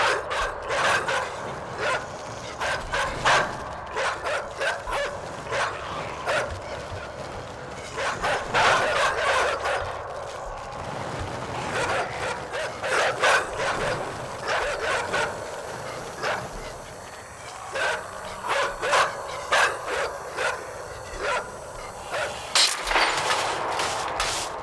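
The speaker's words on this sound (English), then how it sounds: "Do ya, you fucking dogs? God damn it. Stupid fucking dogs." Dogs bark and yip repeatedly throughout a tense sequence in the video game Inside, a busy, continuous mix of game sounds with scattered sharp hits.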